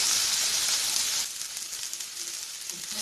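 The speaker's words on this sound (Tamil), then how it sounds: "இப்போ ஓரளவுக்கு வெங்காயம் நல்லா ஃப்ரை ஆகிடுச்சு." Chopped onions frying in a pan for a mushroom masala, a steady close, loud sizzle and hiss that eases slightly partway through and keeps crackling with small spits.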